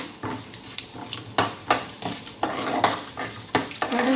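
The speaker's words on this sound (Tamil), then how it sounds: "கடுகு உளுத்தம்பருப்பு பொரியட்டும்" Mustard seeds and urad dal pop and splutter in hot oil with a crackling sizzle, punctuated by sharp metallic clinks of a spoon against the pan.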